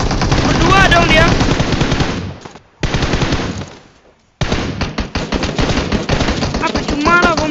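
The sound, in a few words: gunfire in the video game PUBG Mobile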